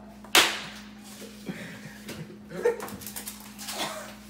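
Dogs whimper and yip at close range amid rustling and shuffling at a blueberry farm, with a sharp snap near the start.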